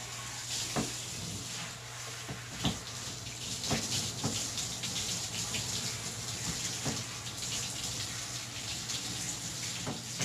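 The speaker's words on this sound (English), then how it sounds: "now we're going to do a little rinse and then a second rinse" Water runs steadily from a tap or sprayer while a dog is rinsed during a bath at home, a constant gushing hiss with occasional splashes and knocks, nearby and moderately quiet.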